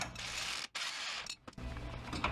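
A ratcheting wrench clicks rapidly while loosening a 21mm upper track bar bolt on a 2015 Jeep JKU, close bursts of ratchet clatter broken by short pauses.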